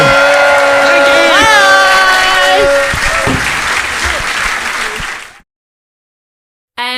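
A live podcast audience applauds and cheers, loud sustained clapping mixed with rising whoops and voices, fading over several seconds before cutting to silence.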